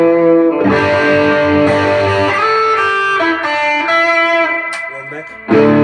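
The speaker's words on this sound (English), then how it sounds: "if we put a tube screamer" An electric guitar, a Coban kit build, played through a Tube Screamer overdrive with a gritty tone, plays sustained chords and notes, loud and close, with a sharp attack near the end.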